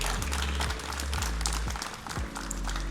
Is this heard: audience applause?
yes